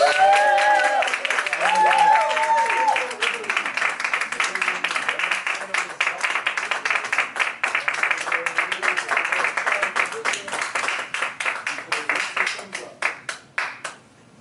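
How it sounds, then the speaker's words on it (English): An audience at a standing event applauds, dense clapping that thins into scattered individual claps toward the end, with voices talking over the start. "With a round of applause."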